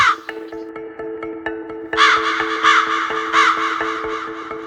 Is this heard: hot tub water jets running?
no